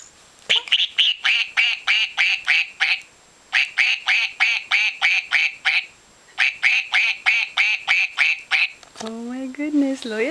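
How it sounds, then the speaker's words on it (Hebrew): Rapid bursts of quacking in three long runs of evenly spaced calls, bright and close, followed by a short spoken phrase at the end. "איך עושה ברווז? קוואקוואק."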